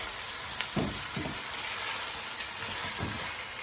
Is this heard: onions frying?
yes